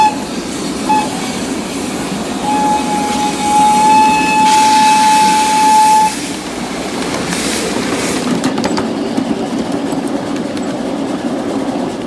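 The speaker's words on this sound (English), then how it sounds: "with a jolt, 361 and its train of gondolas pulled out of the station" Steam locomotive 361 hauling gondola cars out of a station at a steam and power show, giving a long steady whistle over chuffing and rumbling wheels, followed by rhythmic clanking and rolling as the train gets moving.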